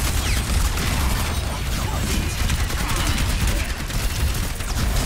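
Rapid gunfire from the video game Overwatch 2 in a Junkertown tank match, dense bursts of shots and mechanical clatter continuing throughout, loud and busy.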